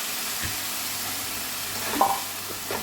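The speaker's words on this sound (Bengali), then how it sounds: "চালে ডালে ভালো করে ঘিয়ের মধ্যে ভালো করে ভেজে নিলাম।" Rice and lentils frying in ghee for khichuri, a steady low sizzle with a few soft scrapes of stirring near the end, close by, no voices.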